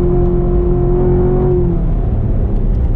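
A Corvette C7 engine is revving hard in third gear while racing, a loud sustained whining roar that holds steady at the limit and then eases off toward the end.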